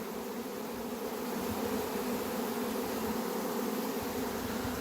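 A honeybee swarm pouring out of the hive makes a dense, steady buzzing hum that holds loud and unbroken throughout, with many wings droning together close by.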